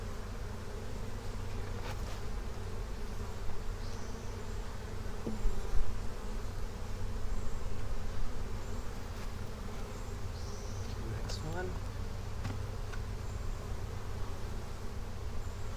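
A dense, constant hum of many honeybees drones on evenly at a hive, close and steady, with only a couple of spoken words briefly over it.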